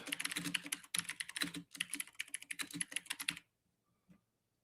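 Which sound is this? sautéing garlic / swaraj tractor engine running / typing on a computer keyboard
typing on a computer keyboard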